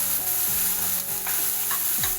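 Capsicum and garlic frying in a pan for tawa pizza butter paneer, a steady close sizzle with soft scraping stirs now and then, no voices.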